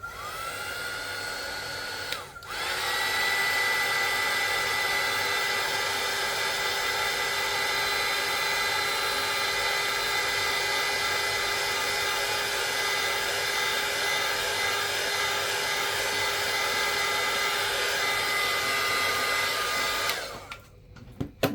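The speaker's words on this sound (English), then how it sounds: "instead of letting that dry, I'm going to hit it with my heat tool" A heat tool blows steadily for about eighteen seconds, drying paint on a small piece of miniature art, a loud continuous whooshing roar that starts abruptly and cuts off near the end.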